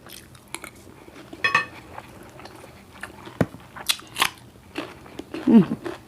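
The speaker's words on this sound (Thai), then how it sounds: "ติดกระดูกอ่อนกรุบๆเลย" Close, crunchy chewing of minced pork containing bits of rib cartilage, eaten with stir-fried basil pork over rice, giving a series of sharp, irregular crunches and bites with quieter chewing between them.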